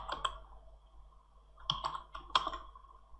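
A few sparse computer keyboard key presses, clustered in short bursts of clicks, close and fairly quiet over a low background hum, with no one speaking.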